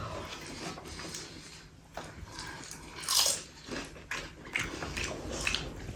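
Someone eats roasted pigeon during an eating challenge, with close crunching bites and chewing against a noisy room background.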